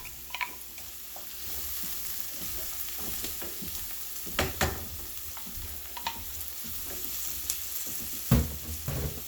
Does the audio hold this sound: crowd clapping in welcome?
no